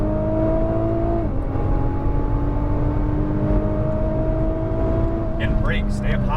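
A Nissan GTR accelerating on a race track, its engine note climbing steadily in pitch under throttle with a brief shift dip, loud and continuous from inside the car, with a little speech near the end.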